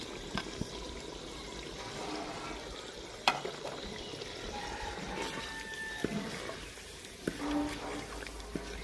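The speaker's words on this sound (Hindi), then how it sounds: "देखिए हमने इसमें मसाले जो है उनको भून लिया है।" Ground spices (cumin, turmeric, salt, red chili) frying in a pan for a village-style chicken and pea curry: steady soft sizzling with occasional clinks of a stirring spoon against the metal pan, and no voices.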